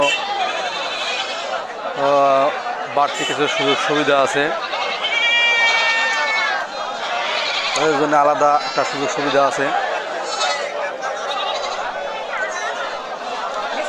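Goats bleating at a crowded goat market, several loud wavering calls in bursts, some overlapping, mixed with constant nearby chatter and someone talking over them.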